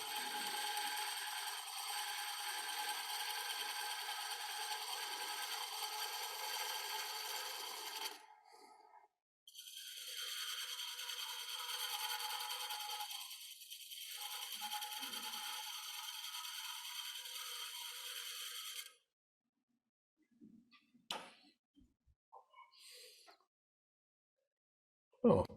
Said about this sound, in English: I'm going to try to get as good a cut as I can here with my spindle gouge